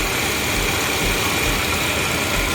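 A used car's engine idles at a dealer auction, a steady, loud, even running drone with broadband noise and no pauses throughout.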